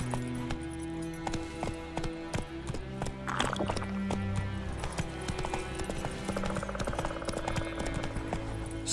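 Roach, a horse in The Witcher 3 video game, gallops with a steady rapid rhythm of hoofbeats, close and clear over ambient game music and sound, without speech.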